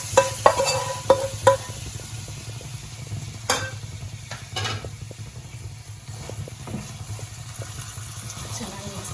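Carrot halwa is stirred in a pan with soft scraping and a faint sizzle. A few sharp clinks of the spoon come near the start, over a steady low hum.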